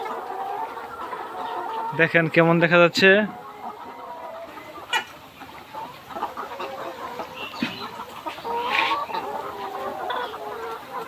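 Chickens in a poultry farm fitted with foggers cluck and squawk nearby, with a burst of loud calls early on, while someone speaks over the flock.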